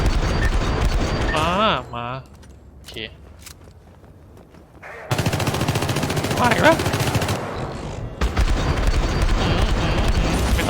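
Turret gunfire in the video game Syndicate: loud rapid machine-gun bursts come in two stretches with a quieter gap between them, with voices calling out over the shooting.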